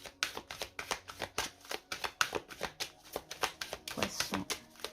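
Illustrated oracle cards are shuffled by hand for a tarot-style reading, making soft, quick, rhythmic riffling flutters heard close and quiet with no talk.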